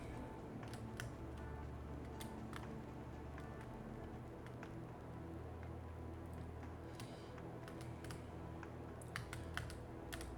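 Clicky computer keyboard typing in steady, uneven bursts of sharp key clicks, close and fairly loud over a low background hum, no talking.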